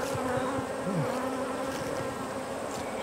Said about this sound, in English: there are guard bees that, like, they really,